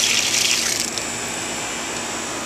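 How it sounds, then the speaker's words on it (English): Water rushes through a repaired underground line of CPVC converted to copper with a new valve, a short close hiss and gush that eases into a steady flow. "See, the water is on."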